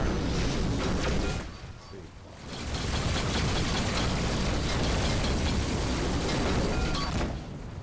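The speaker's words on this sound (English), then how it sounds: "My uh, turrets are firing all over the place." Spaceship turrets fire continuously in Rebel Galaxy Outlaw, a dense loud mechanical rattle of rapid shots with booming impacts, briefly dipping before resuming at full intensity.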